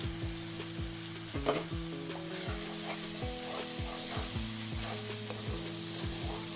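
A spice mixture hits frying onions for Kashmiri potato curry, giving a close, bright sizzle with repeated stirring scrapes in an even rhythm.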